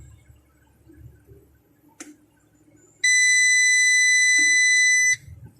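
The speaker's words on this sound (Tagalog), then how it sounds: "may buzzer kasi kaya maingay" A hybrid inverter's buzzer sounds while its settings are changed for parallel setup, a loud steady multi-tone electronic beep lasting about two seconds, preceded by a short click and quiet background hum.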